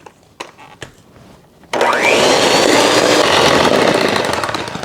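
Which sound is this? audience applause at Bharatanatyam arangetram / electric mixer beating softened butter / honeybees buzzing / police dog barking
electric mixer beating softened butter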